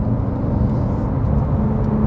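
A 2016 Porsche 911 R engine drones steadily from inside the cabin while driving, a constant low rumble and whir at an even level throughout, with no talking.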